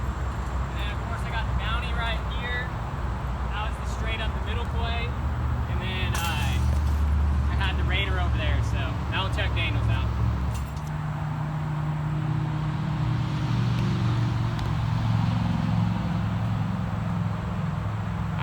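Someone talks on a golf course over a constant low rumble of distant interstate highway traffic that continues steadily throughout.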